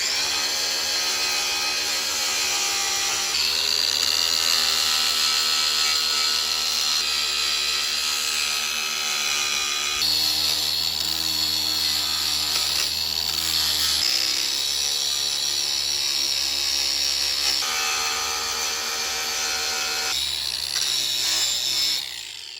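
A power tool fitted with a poly abrasive wheel whines loudly and continuously while cleaning a brake caliper carrier during an ST150 rear caliper rebuild, its pitch shifting slightly as pressure changes, with no talking.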